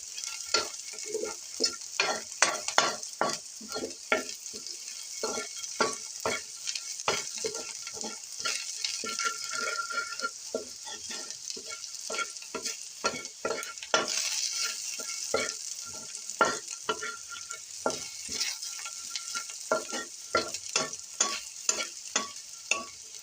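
Onions frying crisp and deep brown in oil for chicken biryani, a continuous sizzle broken by frequent scraping stirs in an irregular rhythm, close and fairly loud, with no voices.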